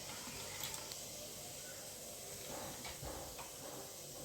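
Half a spoon of cumin seeds sizzles in three spoons of hot oil in a kadhai for a simple masoor pulao, a soft continuous hiss with faint crackles, quiet and close.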